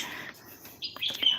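Around a Konkan house shaded by trees, birds chirp briefly: a faint high trill, then a few sharp, bright calls close together, with a soft insect-like hiss underneath.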